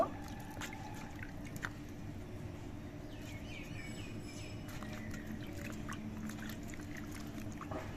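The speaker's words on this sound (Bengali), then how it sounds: "এবার এই মোচাগুলো আমি ধুয়ে নেব" Pieces of banana flower being washed by hand in a tub of water, with faint, soft drips, small splashes and pouring sounds spread through a quiet room.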